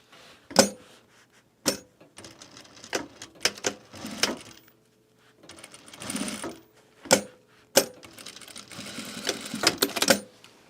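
A sewing machine stitching the corner of a garment duffle bag, short whirring bursts of needle clatter separated by sharp mechanical clunks and brief pauses, close and fairly loud, no talking.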